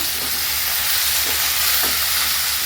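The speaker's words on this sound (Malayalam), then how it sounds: "വഴറ്റി കൊടുക്കുക അധികം വെള്ളമൊന്നും ചേർക്കണ്ട" A steady, loud sizzle of curry frying in a pan with sambar powder, pepper and cumin, unbroken for the whole stretch, with faint stirring scrapes beneath it.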